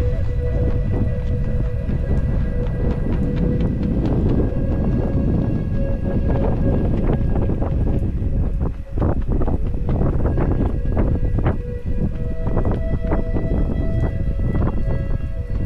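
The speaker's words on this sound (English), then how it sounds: "Ooh, that is windy." Strong wind on Hunchback Hills in Kananaskis buffets the microphone continuously, a loud rumbling roar with gusty bursts and crackling throughout.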